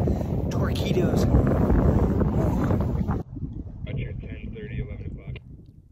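Wind gusting across Lake Erie during a kayak outing, a loud broadband roar buffeting the microphone for the first half, then dropping abruptly to a quieter, steadier rush.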